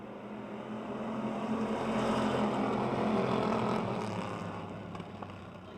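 Stock cars race on a speedway oval at the start of a 15-lap feature, a blended engine roar that swells to a peak midway and then fades, heard from a distance without speech.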